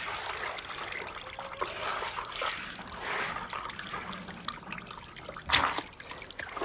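Water trickles and sloshes steadily as beans for Cameroonian koki are washed by hand in a bowl, picking out stones, with a brief louder splash near the end and no talking.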